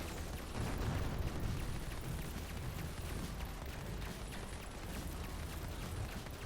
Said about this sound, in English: Airstrike right there.